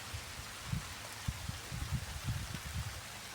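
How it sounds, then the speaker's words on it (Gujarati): Steady rain falling on farmland during a spraying job, a dense even hiss with scattered low patters and drops, moderately loud throughout with no voices. "સારો વરસાદ છે આ. વરસાદ પડી રહ્યો છે,"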